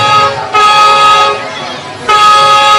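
A car horn honks in two long, loud blasts separated by a short pause, close by.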